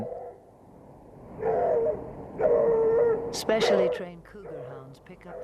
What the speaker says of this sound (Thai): สุนัขตามกลิ่นที่ได้รับการฝึกฝนมาเป็นพิเศษได้กลิ่นแล้วก็เข้าไปใกล้